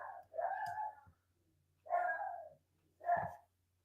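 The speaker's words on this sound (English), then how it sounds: "maybe we won't hear my dog barking and going nuts" A dog barks in three separate bursts, fairly loud and close by in an indoor space, each bark brief with gaps between them and no talk over it.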